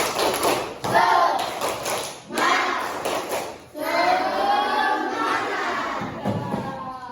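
A primary school class performs the rhythmic 'tepuk semangat' clap, loud bursts of patterned clapping with children's voices chanting along, broken by short pauses.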